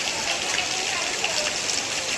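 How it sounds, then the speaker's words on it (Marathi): Steady monsoon rain in Konkan patters and hisses evenly throughout, close and fairly loud, with no clear pauses. "पावसानं हजेरी"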